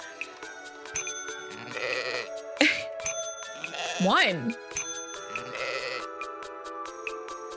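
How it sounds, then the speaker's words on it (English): Electronic sheep bleats from a big sheep in the game Welcome, Dear Human sound over game music, several cries rising and falling, with a voice speaking briefly. "That is a big sheep."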